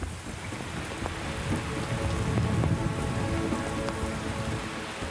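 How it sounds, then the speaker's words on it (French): Steady rain patters on a surface on Anticosti Island, a dense continuous hiss with scattered droplet taps, no voices. "Ce matin, jour 2 de chasse pour moi. Il pleut encore."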